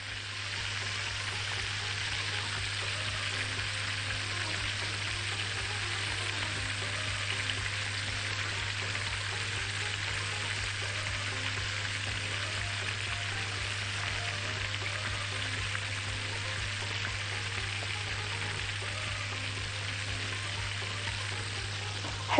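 Mini fruit pancakes frying in a pan, a steady close sizzle hissing continuously throughout with a low hum underneath.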